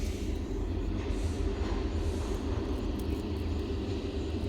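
A train rolling slowly into a station, a loud, steady low rumble of wheels and carriages that holds evenly throughout, with no voices over it.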